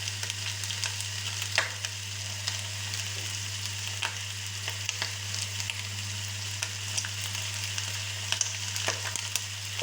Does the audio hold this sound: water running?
no